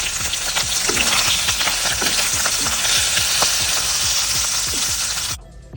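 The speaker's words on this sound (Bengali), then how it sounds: "ট্যাঙ্গা মাছগুলো ভেজে নিচ্ছি শুধু লবণ আর হলুদ দিয়ে" Small tengra fish frying in hot oil seasoned with salt and turmeric, a steady close sizzle with repeated stirring scrapes and clicks throughout, then cutting off sharply near the end.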